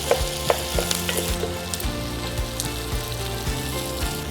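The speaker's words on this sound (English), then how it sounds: "In with sliced garlic and diced bacon. And we're gonna fry this for a couple minutes." Sliced garlic and diced bacon frying in a pan, giving a close, steady sizzle with crackling pops and repeated stirring scrapes throughout, with no talking.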